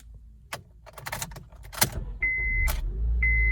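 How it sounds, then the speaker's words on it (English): A 2009 manual Honda Civic shuts off close by, with keys jangling and clicking, followed by a steady electronic chime or hum after the engine stops. "Let me turn it off. Here's the key."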